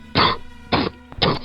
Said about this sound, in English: cough. That's all I hear.